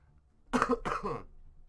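Two quick, rough coughs close to the mic, then quiet.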